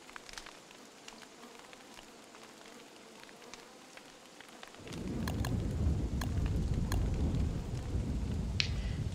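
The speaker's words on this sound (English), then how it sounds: "And well, it's gonna rain." Rain starts partway through in the video game Don't Starve, a steady wash of rainfall rising suddenly to a loud hiss that continues to the end, with a few soft clicks on top.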